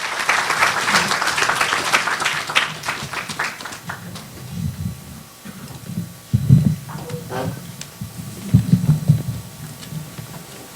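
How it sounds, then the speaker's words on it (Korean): An audience at a Korean lecture applauds to welcome a professor to the podium, a dense spray of clapping up front that thins into scattered claps under murmuring voices and shuffling. "큰 박수로 환영해 주시기 바랍니다"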